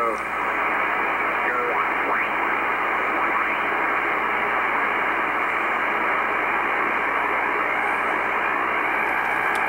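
An amateur radio receiver tuned to the 80 meter band near 3870 to 3890 kHz produces a constant, loud wash of band noise with faint wavering carriers and heterodyne whistles. There are no clear voices.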